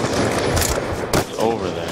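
Rapid automatic gunfire in the video game Black Ops 2, a loud dense burst of shots with brief breaks, under a player's voice.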